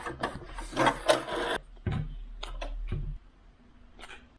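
A sewing machine stitches a seam while making overland spare-parts bags. Short bursts of mechanical whirring and clatter run over a low motor hum, then stop, leaving quieter handling noises.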